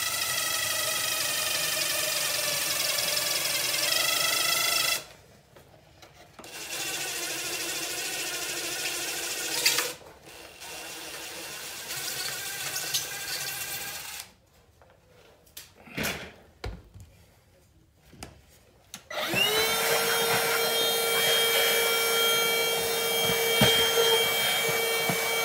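A power drill whines loudly in bursts, stopping and restarting several times with rough grinding as the bit bores through foam for a foam core wing, close and unaccompanied by talk.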